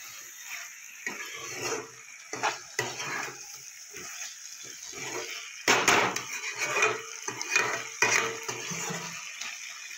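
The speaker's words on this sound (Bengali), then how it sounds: "এবার আমি ভেজে রাখা শিমগুলো দিয়ে দেবো। মশলার সাথে ভালো করে আমি মিশিয়ে নেব।" Fried flat beans are stirred into mustard and poppy seed paste in a pan, making intermittent wet scraping and clattering strokes of a spoon against the cookware.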